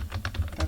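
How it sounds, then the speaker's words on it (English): Quick, light keystrokes on a computer keyboard tap out a short burst of about seven clicks in uneven rhythm, close and fairly quiet. "Let's try by typing Google and yahoo.com."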